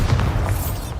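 Bombarda blasting spell explosion in the video game Hogwarts Legacy: a dense, rumbling low boom that stays steady for a second, loud and close, with no voices over it.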